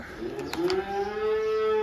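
A bull, sire of the calves, lets out a single close, loud moo that starts low and rises into a long sustained bellow lasting nearly two seconds, with no talk.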